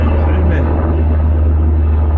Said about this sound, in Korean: 헬리콥터가 지나가네